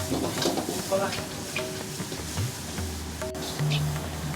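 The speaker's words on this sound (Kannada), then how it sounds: "ಈರುಳ್ಳಿ ಈ ತುಪ್ಪದಲ್ಲಿ ಚೆನ್ನಾಗಿ ಫ್ರೈ ಆಗಬೇಕು" Onion frying in ghee for dal khichdi in a Malleshwaram veg hotel kitchen, a steady low sizzle with stirring scrapes underneath, close and moderate in level throughout.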